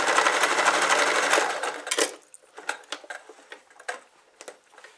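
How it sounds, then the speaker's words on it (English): A sewing machine stitches quilt binding, running in a fast, even close-up whir for about two seconds before stopping, followed by scattered light clicks and handling taps. "So I sew it down."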